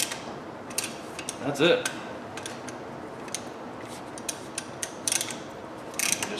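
A brake caliper piston on a Dodge Dakota 2WD is twisted back with a compressor tool, producing small ratcheting clicks and metallic ticks in an irregular series, close up, with a brief spoken remark.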